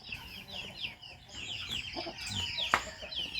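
Several chickens cluck and chatter nearby, with soft overlapping calls and a sharp squawk near the end.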